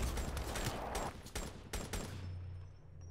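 Rapid barrage of mobile artillery scorestreak blasts in Black Ops 3 Domination, loud dense explosive volleys for about two seconds, then tailing off into quieter rumble.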